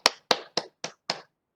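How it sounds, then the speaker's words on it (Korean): Five separate, evenly spaced hand claps ring out during a Korean evangelism training lecture, crisp and fairly close, with short gaps between them and silence afterward. "박수 한번 쳐드릴게요."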